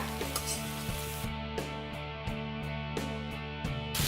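Sliced capsicum stir-fried over a high flame for restaurant-style chicken noodles, a steady close sizzle broken by repeated scraping strokes of a spatula against the pan.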